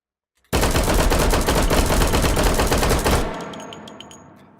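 Rapid continuous gunfire from two pistols fired at once in the H3VR virtual reality shooter, a loud dense barrage lasting about three seconds before stopping abruptly and ringing out, with no talking.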